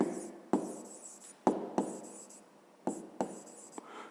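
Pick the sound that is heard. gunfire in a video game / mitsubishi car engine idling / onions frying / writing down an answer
writing down an answer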